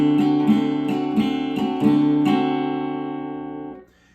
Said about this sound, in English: The D 7th open chord looks and sounds like this.